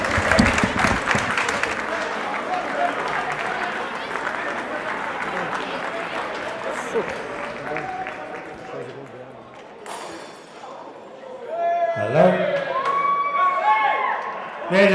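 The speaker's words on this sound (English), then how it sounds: "So a round of applause to the 4 players." Sustained crowd applause and cheering at Croke Park after the All-Ireland softball handball men's doubles final, dense clapping that fades slightly midway then swells again, with an announcer's voice speaking over it.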